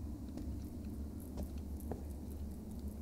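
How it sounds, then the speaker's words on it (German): A maggot chewing in Bear Simulator: faint, steady wet smacking and munching sounds repeating under a low constant background rumble. "Und ich höre eine Made schmatzen."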